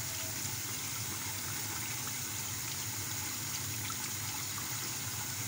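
Rice being washed under water gives a steady, unbroken rush of running, sloshing water close by for the whole stretch, with no speech over it.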